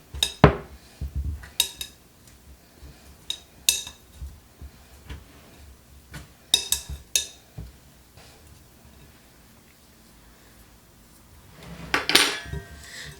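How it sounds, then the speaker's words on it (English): A fork works cold butter into a flour mixture in a bowl for a peach cobbler cheesecake, giving scattered clinks and scrapes of metal on the bowl in irregular bursts, with a louder scraping flurry near the end. "you're going to cut your butter into the flour and other ingredients"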